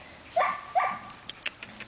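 Six-week-old puppies give a few short, high whimpers and yelps close by, two clearer cries followed by fainter squeaks.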